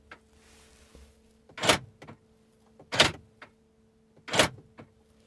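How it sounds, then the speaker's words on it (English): Door-closing mechanism of a 2020 Mercedes G65 AMG V12 G-Wagon, heard three times: each close is a loud, sharp mechanical clack-thunk, close up, separated by quiet pauses of about a second and a half. "Super loud closing mechanism. It's like loading a gun or something."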